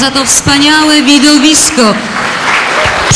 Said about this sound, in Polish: Stokroć brawa, mili Państwo,